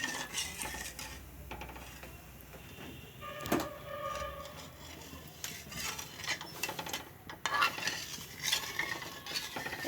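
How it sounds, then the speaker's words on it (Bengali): A kadai of carrot and egg halwa is stirred with a utensil, scraping and clinking against the pan in an uneven, continuous rhythm at close range, with no talk. "এটা নাড়তে নাড়তে নাড়তে নাড়তে পুরো মিহিদানার মতো হয়ে যাবে"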